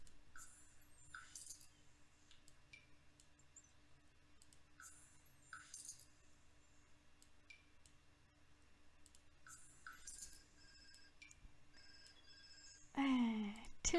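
Telephone ringing in The Sims 4 life-simulation game, heard as faint repeated chiming bursts over a quiet game soundtrack, ending in a louder ringing burst near the end, with no talking.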